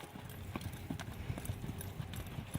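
A wild horse being ponied walks close by, its hooves striking the ground in a steady, rhythmic clip-clop of roughly two beats per second over a soft outdoor background.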